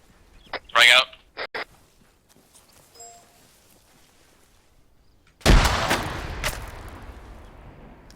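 A single frag grenade blast in a military video game, a sudden loud boom that rumbles and fades over a couple of seconds, preceded by a few faint distant pops and brief radio-like chirps.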